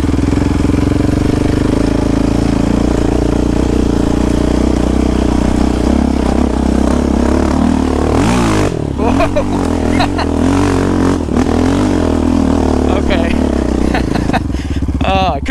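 A Yamaha Raptor 700 ATV, tuned, engine lugging in second gear through a corner, then surging as the throttle rolls on, loud and close with mechanical clatter and a voice talking over it.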